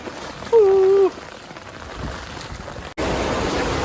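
Heavy rain pours steadily onto a train platform in Mumbai-like monsoon conditions, a dense hiss throughout, briefly joined by a sustained whistle-like tone and ending in a louder, closer burst of downpour.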